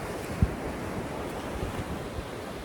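Sea waves rolling onto the beach at Boscombe early in the morning, a steady broadband surf roar mixed with wind buffeting the microphone, with one brief low thump near the start and no talking.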